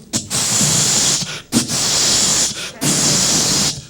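A voice imitates a bug spray can squirting at roaches, making three long, loud hissing bursts separated by brief breaths.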